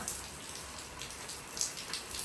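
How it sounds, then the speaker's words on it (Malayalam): Steady rain patters softly outdoors, a faint continuous hiss with scattered drops. "ദേ പുറത്ത് നല്ല മഴ പെയ്തു കേട്ടോ"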